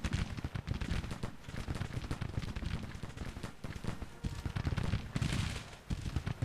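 Dense, continuous musket volleys from a Civil War battle in the Grand Tactician strategy game, a loud crackling barrage of overlapping rifle shots rolling on without pause.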